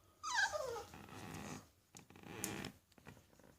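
A Boston terrier gives a short, close, wavering howl that slides downward, followed by softer growly whines and breathy vocal noises.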